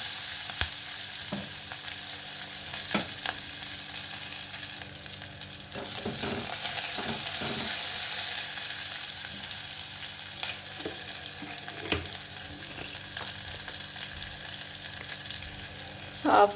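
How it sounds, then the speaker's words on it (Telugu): Onion and green chillies frying in a pan for sorakaya masala curry, a soft steady sizzle with intermittent stirring clicks and scrapes, fairly quiet throughout. "ఉల్లిపాయ వేసేస్తున్నాను. ఒక పెద్ద ఉల్లిపాయ తీసుకున్నానండి,"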